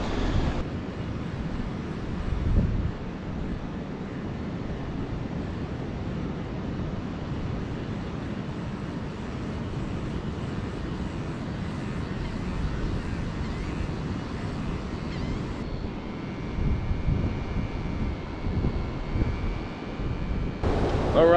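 Ocean surf and wind on the beach at Padre Island National Seashore near Corpus Christi, a loud, continuous roar with gusty microphone rumble and swelling waves throughout, no talk.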